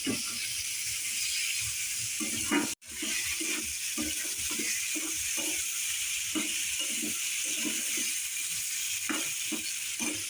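Dried fish frying in mustard oil with chili powder, salt and garlic paste, a steady loud sizzle and hiss throughout, broken by a brief dropout, with faint clatter and low voices in the background.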